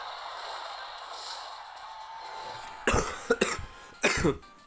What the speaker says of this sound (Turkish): Biraz hastayım bu arada. O kusuruma bakmayın. Öksürüyorum.